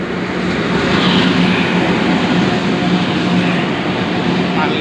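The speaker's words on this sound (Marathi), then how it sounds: "खूप मोठी मालगाडी आहे बघा" Very long freight train rolling past on a clear morning, a loud, steady, dense rumble and rattle of wagons that holds without a break, close to the listener.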